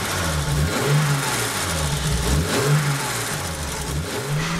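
A 1968 Jaguar E-Type Series 1.5 engine revs up and down repeatedly, the pitch climbing and falling in a steady rhythm, loud and close, with no voices over it.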